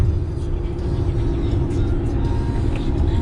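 A new RV rolls down the highway toward Texas, roughly 50 miles outside Joplin, a steady low engine and road rumble filling the cabin with faint rattles, continuous and close.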